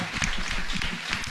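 Audience clapping at a Jain religious ceremony, a steady dense applause from many hands, close and loud, continuing for the whole moment.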